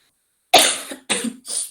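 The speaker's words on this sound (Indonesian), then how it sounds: "maaf ya ini saya sambil batuk-batuk." A person coughs three times in quick succession, close and fairly loud, each harsh burst separated by a brief gap after a moment of silence, with no talk.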